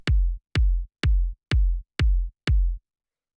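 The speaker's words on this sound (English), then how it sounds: "The first sound we have here is the kick" A kick drum from an instrument rack hits six times at an even 125 BPM pace. Each one is a punchy, booming low thump with a short tail, isolated and separated by brief silence.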